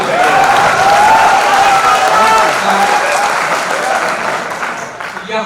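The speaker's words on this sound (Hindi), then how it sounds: "ताली शेर के लिए होनी चाहिए।" Audience applause fills a crowded mushaira poetry recital hall in Roorkee, steady clapping sustained for several seconds and slowly tapering toward the end.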